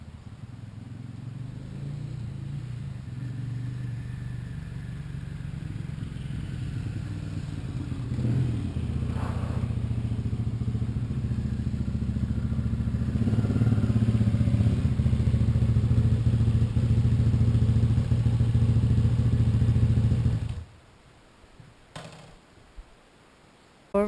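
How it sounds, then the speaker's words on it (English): A loaded 701 motorcycle fitted with panniers and bags idles with a steady low engine hum that grows louder and fuller for about twenty seconds, then cuts off, leaving brief clatters and near silence. "out for my first ride on the 701 with the panniers on and all the bags"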